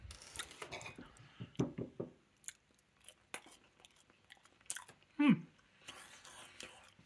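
Close, quiet chewing and biting of battered chicken dipped in sweet and sour sauce, with crunchy bites in short bursts and one louder mouthful near the end, alongside soft whispery sounds.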